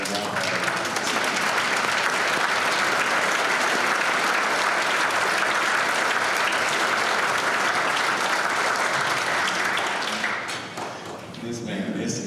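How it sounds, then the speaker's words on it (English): Sustained audience applause fills a hall of fame ceremony, loud and steady for about ten seconds before tapering off, with scattered voices mixed into the clapping. "can I get a round of applause?"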